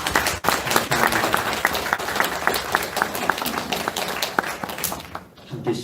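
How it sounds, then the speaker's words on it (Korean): A church congregation at a Sunday morning service applauds in welcome, with sustained, full clapping from many hands that continues at an even level and then tapers off at the end. "저희들이 함께 큰 박수로 환영하고"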